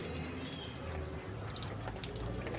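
Water from a hose pipe splashes steadily over an animal being bathed, a continuous pouring and spattering noise at moderate distance.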